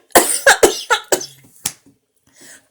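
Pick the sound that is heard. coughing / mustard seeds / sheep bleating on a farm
coughing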